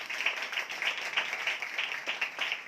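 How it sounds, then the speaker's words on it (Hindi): A church congregation at a Sunday worship meeting claps in a steady, quick rhythm, a moderately loud stream of hand claps heard without speech. "जोरदार तालियां बजाएं"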